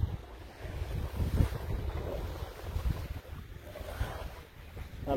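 Steady wind gusts across open water by a lakeside island campsite, with a low rushing roar and faint lapping waves, continuous and moderately loud throughout, no voices.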